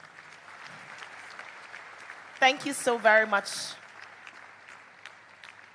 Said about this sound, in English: Ladies and gentlemen, please make that applause louder.